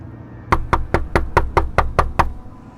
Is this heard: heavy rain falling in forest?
no